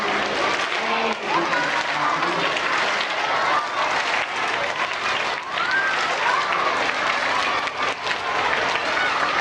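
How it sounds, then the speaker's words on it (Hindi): An audience at a Janmashtami celebration claps steadily and densely for the whole stretch, loud and close, with a few voices and whistle-like calls mixed into the crowd noise. "ताली पाड़ो तो मारा शांति रे"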